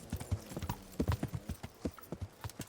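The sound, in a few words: horse hooves clip-clop in Kingdom Come Deliverance video game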